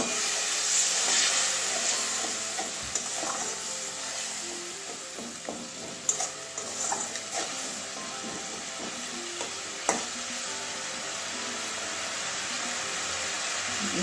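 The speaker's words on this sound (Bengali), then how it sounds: "এবারে জল দিয়ে মশলাটা কষিয়ে নেব।" Spice paste with tomato, salt and added water cooking down in a pan for paneer-stuffed potol dolma, a continuous soft sizzle and bubbling with occasional clicks and scrapes of stirring, steady and close.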